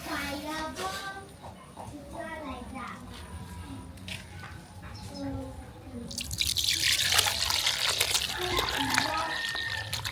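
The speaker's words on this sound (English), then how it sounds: "Okay, so I want to sieve it now." Homemade banana wine drips and trickles through a sieve, a continuous wet pattering that grows denser and brighter in the second half, with a person talking over the first part.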